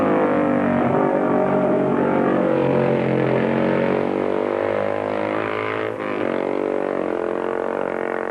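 A 350 BSA racing motorcycle at the 1952 Isle of Man Junior Clubmans TT holds a loud, steady engine note, rich and harmonic, with a brief dip near the end before it carries on.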